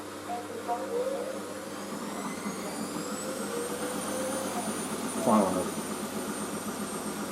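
A washing machine spins at speed in a steady whirring drone, with a brief knock from its shock absorbers partway through; people talk faintly in the background.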